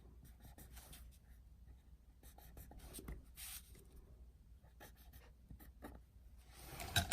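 A marker or pen drawing a line of symmetry across a graph, giving faint, steady scratching strokes that recur through the whole stretch, with no talking.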